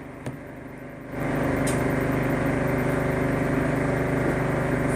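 A washing machine drum in test mode starts spinning after a quiet moment and a faint click, then settles into a steady, fairly loud motor hum and whir that holds to the end.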